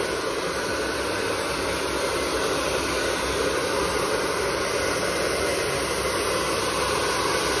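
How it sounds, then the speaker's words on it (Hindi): A hair dryer blows steadily and loudly at close range while drying the front section of hair after a cream treatment in a salon straightening session, a constant broadband whoosh with no pauses. "Dryer is going on front section से."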